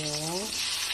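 Garlic and onion sautéing in a hot pan give a steady, close broadband sizzle. A brief voiced tone runs underneath at the start, then the frying hiss continues alone.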